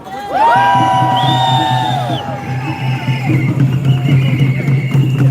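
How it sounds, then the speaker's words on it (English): A rally crowd cheers loudly and close by, with several sharp whoops and yells rising over a dense, continuous roar of many voices. "I need a big cheer for this"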